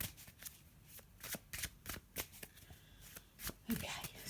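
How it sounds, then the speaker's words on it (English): Tarot cards from a Faulkner Tarot deck being shuffled by hand, a run of quick riffling snaps and rustles at close range, with a faint voice in the background. "So I'm just going to have a little shuffle and pop a card down."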